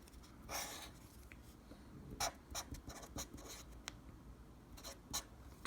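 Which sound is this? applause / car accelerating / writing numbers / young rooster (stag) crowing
writing numbers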